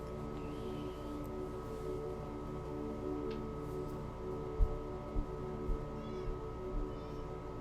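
A house cat meows several times to be let outside, short faint calls spaced a second or so apart over a steady background hum, with soft thumps.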